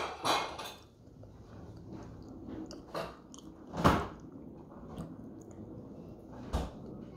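Chewing on fried banana, a Filipino dessert, with a few distinct crunchy bites and soft mastication close to the mic in a quiet room, no talking.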